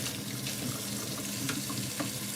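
Tap water pours steadily into a kitchen sink as dishwater is drawn with detergent and a little bleach, a continuous close rushing hiss with faint clatters, and no voices.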